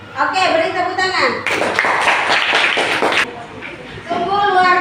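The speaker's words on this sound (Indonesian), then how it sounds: "Oke, beri tepuk tangan." A classroom of schoolchildren claps together in a dense burst of about two seconds, framed by a teacher's voice talking before and after.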